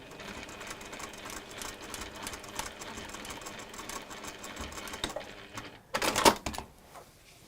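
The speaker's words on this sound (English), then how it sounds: "So that end and that end, we're just going to baste in place." A domestic sewing machine runs a steady, rapid stitch while basting a seam along the bottom of a textile piece with a zip. It stops briefly, then gives a louder short burst near the end.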